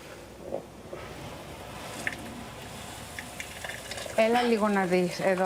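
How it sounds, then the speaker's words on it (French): Soft scraping and stirring of flour and hot water in a pan over a low sizzle, with a faint bubbling rise near the end. "je vais rajouter de l'eau chaude petit à petit, pas tout d'un coup. Et on remue."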